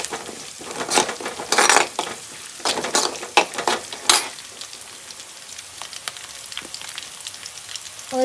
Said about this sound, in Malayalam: ഒരു ടീസ്പൂൺ മഞ്ഞപ്പൊടി ഇളക്കി കൊടുക്കുന്നുണ്ട്.